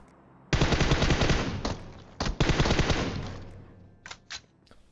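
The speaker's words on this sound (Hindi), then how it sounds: "गोली चला रहा हूं, सारी गोली फट्टे पे लग जाती है" Rapid automatic gunfire in a video game match bursts loudly for several seconds, stops briefly, then resumes and ends with a few short, separate shots.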